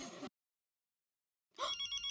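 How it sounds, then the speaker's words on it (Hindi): A telephone rings in two short bursts separated by a second of silence, a bright electronic trill heard close by. "फोन आया"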